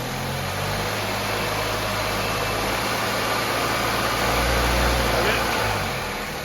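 A 2004 Saab 9-3 engine idling and then briefly revving in drive during motor and torque mount checks, a low steady hum that swells around the middle and settles back, with a voice faintly present.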